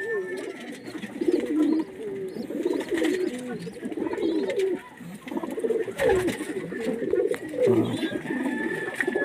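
A female Kasuri pigeon gives repeated soft, throaty coos at close range, in a continuous run of rolling calls with brief pauses, with faint background noise.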